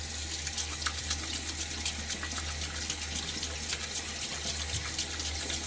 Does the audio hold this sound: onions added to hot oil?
no